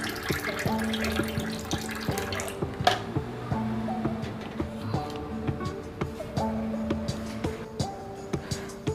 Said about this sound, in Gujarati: આપણે ઠંડુ પાણી નાખશું તમારે બરફ નાખવું હોય તો બરફ એ નાખીશું